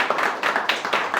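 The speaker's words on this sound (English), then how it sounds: "Can you give us a big round of applause?" Scattered clapping from a small audience welcomes a guest at an entrepreneurs' fireside chat in Chennai, a few distinct hand claps in loose rhythm over a short, moderately loud burst.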